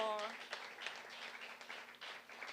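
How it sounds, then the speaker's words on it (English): Audience applause in a hall at a high school debating competition final, a broad steady wash of clapping lasting a few seconds, with a speaking voice briefly heard at the start. "give Dame Commander Constance Mitchum a round of applause"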